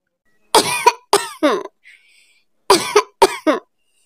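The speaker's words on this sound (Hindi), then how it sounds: "उसको खांसी हो रही थी" Two bursts of harsh, close coughing, three coughs each, separated by a brief pause.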